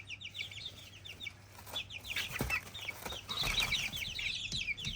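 Australorp chickens cluck and chirp softly in a coop, with repeated short calls scattered across the clip, some overlapping, plus a few rustles, fairly close.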